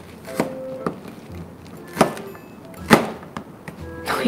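A knife chops green onion on a cutting board, giving about half a dozen sharp, close knocks at an uneven pace with quiet pauses between them.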